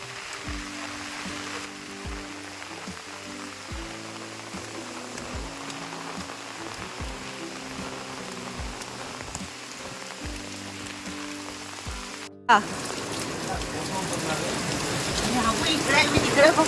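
Heavy monsoon rain in Ratnagiri, Konkan, patters steadily beneath a humming tonal sound with rhythmic pulses. After an abrupt cut, a louder, brighter rain hiss takes over and keeps building.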